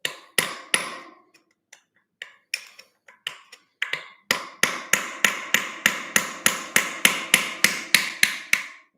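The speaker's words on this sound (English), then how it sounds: "We're going to hit that ring on the notch." A hammer striking the notch of a ring on a Sturmey Archer three-speed bicycle hub to turn it counterclockwise: sparse sharp metallic knocks at first, then a steady fast run of regular, ringing blows, close and fairly loud.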